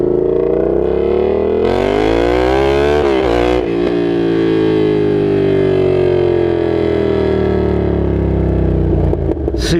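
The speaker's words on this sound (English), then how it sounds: "nothing compares to the loudness of this exhaust system on this bike" A very loud Yamaha FZ-07 (MT-07) motorcycle with a Danmoto XG-1 full exhaust system roars close by, its pitch climbing and sagging as the engine revs repeatedly.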